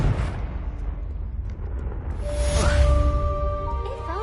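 A Confringo blasting spell from the game Hogwarts Legacy goes off as a loud, rumbling burst that builds midway, with rising bright tones and sustained magical chimes trailing over a heavy low roar.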